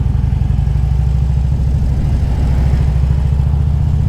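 Six-cylinder Honda Goldwing motorcycle idling quietly up close, a smooth low thrum with a faint steady pulse that stays even from start to finish, no voices.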